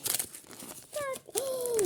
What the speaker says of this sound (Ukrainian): засічка взагалі не спрацювала, тому прийдеться рвати